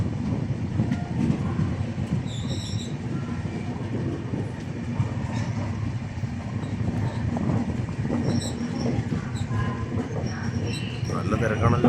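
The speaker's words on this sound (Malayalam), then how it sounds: "കണ്ണൂർ റെയിൽവേ സ്റ്റേഷനിൽ എത്തിക്കൊണ്ടിരിക്കുകയാണ്." Inside the Netravathi Express as it pulls into Kannur railway station: a continuous low rumble of wheels and carriage noise, with faint squeals and clicks over the steady drone.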